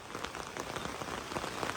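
Steady rain falls on surfaces outdoors, a dense, even patter of drops that continues without a break and with no voices.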